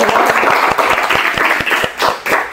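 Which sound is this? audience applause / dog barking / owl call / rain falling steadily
audience applause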